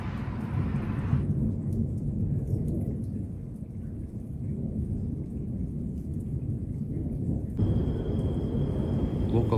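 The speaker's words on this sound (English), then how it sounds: "The storm thunder was so loud" A thunderstorm at night over Gaza, with steady rain and a continuous low rumble of thunder rolling throughout, loud and sustained with no talking.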